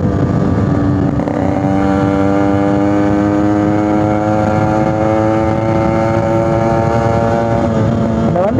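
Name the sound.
Yamaha RX100 motorcycle riding at speed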